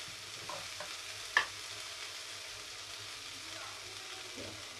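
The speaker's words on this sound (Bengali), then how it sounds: "মশলাগুলোকে আগে নেড়ে নিই, আর আলুটা ধরে যাবে।" Spices and potatoes being stirred in a frying pan for Bengali alur chorchori, a soft steady sizzle with scraping and one sharp clack near the middle. The sound is quiet and fairly close.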